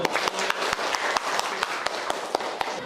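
Students in a school craft class clap together, with a rapid spread of hand claps and a few sharper, distinct slaps standing out over the busy, moderately loud applause.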